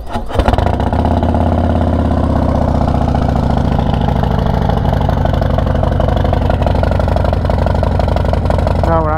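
A Harley-Davidson Road Glide motorcycle idles in a parking lot, its V-twin engine chugging loud and close in a steady, throbbing rhythm that gradually settles lower.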